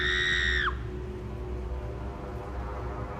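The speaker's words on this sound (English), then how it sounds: "My God, that was a very high-pitched scream" High-pitched scream of a boy from a horror short film, a piercing sustained shriek that drops in pitch and cuts off after under a second, leaving low ominous background music.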